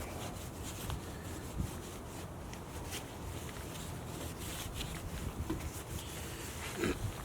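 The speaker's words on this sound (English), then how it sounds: "I'm just prepping the surface right now. Try to get as much residue off as I can." Close, soft rubbing strokes scrub residue off a truck tailgate surface, quiet and repetitive, with a few faint knocks.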